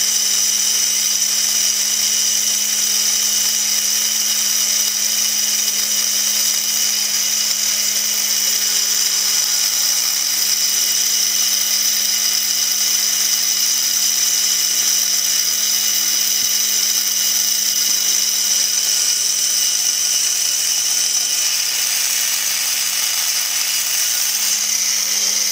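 A steady high-pitched whine of a small rotary drill grinding continuously, with a low constant hum underneath and no pauses, as it drills a 3 mm hole into an 8 mm ruby ball.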